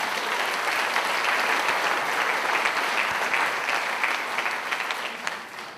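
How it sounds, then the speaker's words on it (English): A live training audience applauds with dense, steady clapping that lasts several seconds and then tapers off near the end. The applause is loud and even, with no talk over it. "Give her a round of applause."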